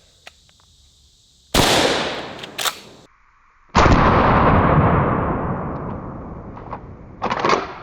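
Benelli shotgun fired at a target at close range outdoors: two loud, sharp blasts with long ringing decays, a smaller crack between them and a third blast beginning at the end.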